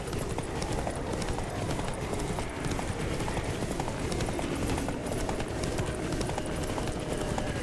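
Horse galloping in The Witcher 3, a fast continuous clip-clop of hooves running steadily throughout under a dense game soundscape, close and loud with no break.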